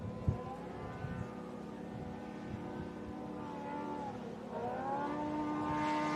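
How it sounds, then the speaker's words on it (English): Off-road race truck at a river dash event, its engine exhaust droning and rising in pitch with changing revs, heard at a distance under outdoor ambience. "Just got a completely different exhaust note."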